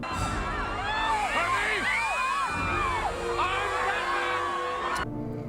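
A dense, roaring crowd at a circus in The Batman fills the scene with overlapping cheers, whoops and shouts, loud and continuous, ending in a sharp bang.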